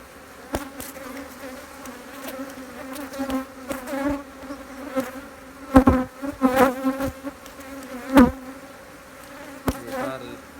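Honey bees buzz steadily as a beehive frame of capped brood, honey and pollen is inspected, a dense droning hum broken by a few sharp knocks and clicks from handling the hive.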